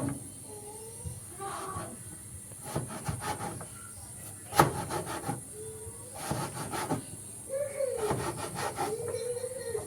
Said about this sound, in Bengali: এভাবে স্লাইস করে নেব আমি এই আলুটা